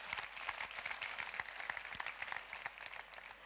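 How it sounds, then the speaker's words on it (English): An audience at a convention event applauds, a dense patter of many hands clapping at once, fairly faint and sustained throughout. "a big round of applause for all 8 of them"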